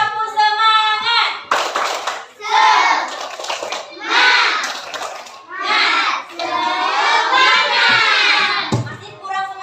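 Children in a third-grade classroom do a rhythmic clapping cheer, with bursts of hand claps and chanting young voices in several loud rounds, close by.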